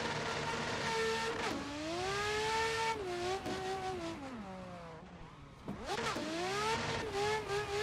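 A high-boost street drift car on a mountain touge track in Assetto Corsa revs hard, its engine note rising and dipping repeatedly as the throttle is worked through slides, loud and close, with no talk.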